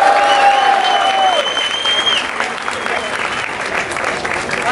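Loud crowd applause and cheering fill a rap battle final, steady and close for several seconds, gradually easing off slightly as a voice shouts over the noise.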